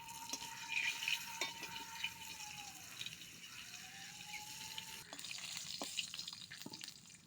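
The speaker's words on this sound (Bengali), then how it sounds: "2টো রসুন ভেজে নেবো গোটা।" Two whole garlic cloves fry in hot oil with a steady, close sizzle and hiss, broken by occasional scrapes and knocks of stirring, while a thin tone drifts faintly through the background.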